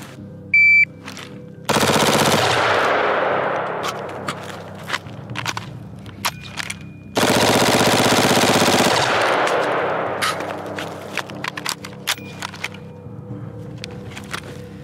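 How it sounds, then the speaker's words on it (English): A Bushmaster ACR rifle emptying a full magazine at ten yards, two long rapid bursts of close, loud shots separated by scattered single shots and quieter handling sounds. "Mag dumping one full magazine with a partial for the reload."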